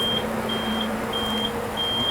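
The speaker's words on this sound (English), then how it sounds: "You can hear it, it alarmed." Air filter restriction sensor alarm on farm equipment beeping in a steady repeating pattern of short, high-pitched tones, four evenly spaced beeps over a continuous low engine or machinery hum, with no talking.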